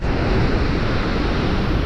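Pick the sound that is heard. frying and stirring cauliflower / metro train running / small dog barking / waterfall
waterfall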